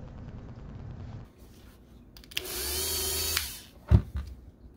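A machine polisher fitted with a fine yellow pad works 2K clear coat, giving a brief whirring spin of about a second followed by a sharp thump.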